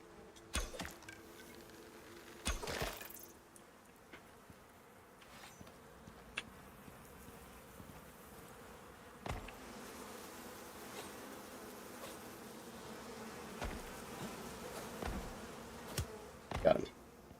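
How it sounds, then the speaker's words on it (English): Cave bees buzz in the survival video game Icarus, a faint insect drone running through the whole stretch with occasional louder swells, plus a few sharp clicks and thuds from gameplay, all fairly quiet in the background. "Gotta watch out for them cave bees."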